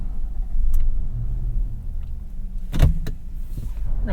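Inside a 2021 Nissan Armada SUV, a low engine rumble sits under small mechanical clicks and a power-window whir. A sharp thump comes partway through, and the cabin stays fairly loud and close throughout.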